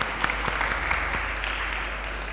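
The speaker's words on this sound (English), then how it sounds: "So just another round of applause for Derica," Brief burst of audience applause at a United Nations Day event, a steady wash of clapping with a few sharper claps standing out, continuing evenly through the moment without voices on top.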